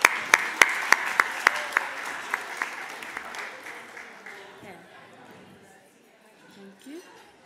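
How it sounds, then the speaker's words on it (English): Applause from a gathered crowd at a lunch program honoring elders and educators, opening with sharp close claps that thin out and fade to scattered clapping and murmuring chatter. "Let's give these people a round of applause again"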